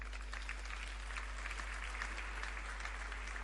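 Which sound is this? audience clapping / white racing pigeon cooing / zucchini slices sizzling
audience clapping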